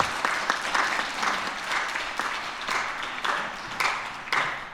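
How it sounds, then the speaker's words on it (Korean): An audience applauds at a children's award ceremony during a Sunday afternoon Christmas celebration service at a church, steady crowd clapping with a few louder claps rising above it, sustained throughout at a fairly loud level. "박수 부탁드리겠습니다"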